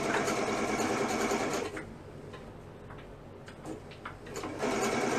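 A sewing machine with a double needle hems a long-sleeve t-shirt sleeve, running in a steady fast-ticking whir, pausing briefly in the middle with a few clicks, then starting up again loud and close.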